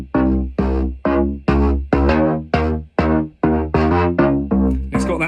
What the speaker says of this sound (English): finding a sound on the Prophet 5 that I liked by twiddling some knobs